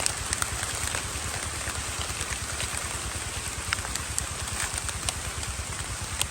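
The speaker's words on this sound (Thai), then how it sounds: "ฝนมาอีกแล้ว มาอีกแล้วรอบสอง" Rain falling steadily outdoors in woodland during mushroom foraging, a dense, even patter with scattered louder drops and a low rumble underneath.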